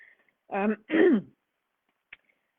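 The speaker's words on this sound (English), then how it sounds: "I just have to clear my throat." Someone clears their throat twice in quick succession, close by, followed by a faint click in the quiet afterward.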